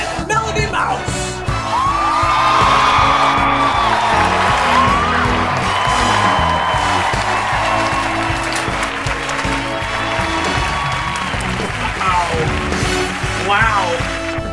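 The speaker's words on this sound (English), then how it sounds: "Let's give a big round of applause with our host and hostess, John Good and Melody Mouse." A big round of applause with whoops and cheers from the crowd at a New Year's Eve royal ball, loud and sustained throughout, with scattered yells rising above the steady clapping.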